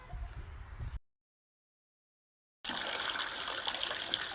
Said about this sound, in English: let's go fill some buckets with water and come back